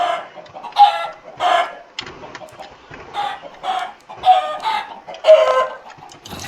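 Minecraft chickens give a series of short, clear clucks at a steady, uneven pace, about half a dozen bursts, close and alone with no talk.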